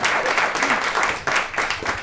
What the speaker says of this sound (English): Let's have a big round of applause for you both